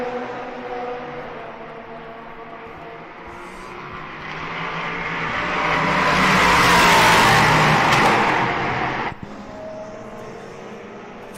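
GT race cars on the last lap at the Red Bull Ring make a broad engine roar that swells as they pass close by, then fades to a steady distant drone.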